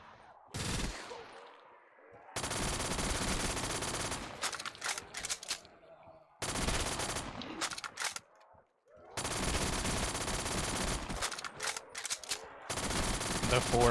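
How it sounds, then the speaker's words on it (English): Black Ops 3 custom zombies gunfire on an Ammu-Nation map, long loud machine-gun bursts broken by short pauses, with bits of game sound in between. "Let's try some of these guns out for a bit then."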